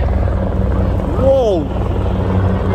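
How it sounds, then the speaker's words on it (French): A low, steady rotor drone with a rising-and-falling whine in the middle as two helicopters pass overhead, while a person briefly exclaims. "2 hélicoptères."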